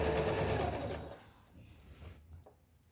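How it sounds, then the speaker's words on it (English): A sewing machine stitching binding onto the edge of a quilt, a steady close whirring hum for about a second that then slows and fades out. "keep on stitching until you're a 1/4 inch away from the edge of the corner"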